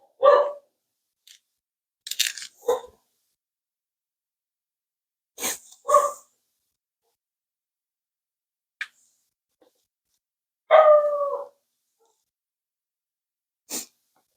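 Dog barking indoors in the morning, a few short separate barks and snorty sneezes spread out with quiet gaps between them, fairly close.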